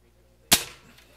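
A Crosman F4 air rifle fires a single shot through a chronograph: one sharp, close crack with a short fading tail, surrounded by near silence.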